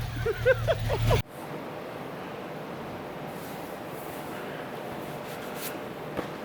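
A 1978 Ford Bronco engine idles just after its first start in 16 years, a steady, even rumble that carries on alone after a brief burst of voices at the start.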